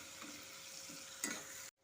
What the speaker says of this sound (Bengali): লবণ হলুদ দিয়ে সমস্ত পেঁয়াজ রসুন লঙ্কা মাথা চিংড়ি মাথাগুলো সমস্ত দিয়ে ভালো মতো করে একটু ভাজা ভাজা করে নেব